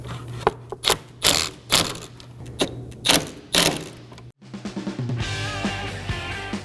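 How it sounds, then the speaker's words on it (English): Two 10mm mounting nuts are snugged down on a 2015-2023 Nissan Maxima 3.5L V6 with a ratchet, giving a series of sharp clicking bursts followed by a steadier rapid ratcheting. "Now for our two 10mm mounting nuts. And now just snug these down."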